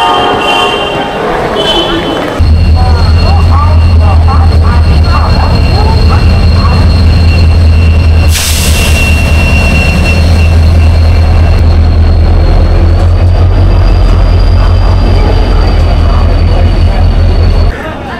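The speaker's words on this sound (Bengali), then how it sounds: "ট্রেন কিন্তু চলে এসেছে হাওড়া স্টেশনের 22 নম্বর প্ল্যাটফর্মে" The 12871 Ispat Express pulls into platform 22 at Howrah station with a loud, close, continuous rumble and metallic squealing tones, plus a sharp burst midway. Voices are heard briefly at the start.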